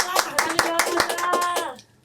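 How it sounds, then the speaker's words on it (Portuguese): A small audience claps in a quick, uneven patter of hand claps at a podcast event, fading out after about two seconds. "Uma salva de palmas, gente!"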